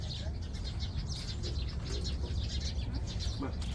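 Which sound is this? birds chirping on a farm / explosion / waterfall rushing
birds chirping on a farm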